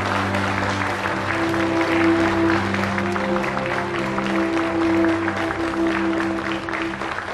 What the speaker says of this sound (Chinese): 让我们掌声隆重有请今天的所有参赛选手隆重登场